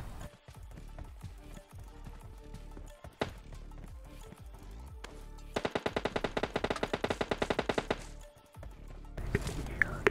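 MK40 rifle fire in the PUBG Mobile Lite game: scattered single loud shots early on, then a fast burst of about twenty rapid even cracks, followed by a shorter volley near the end.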